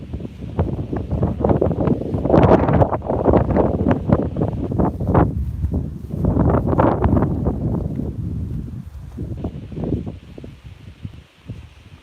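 Strong gusts of wind on a farm in rural South Dakota buffet the microphone, roaring in surges that rise and fade over a rustling background.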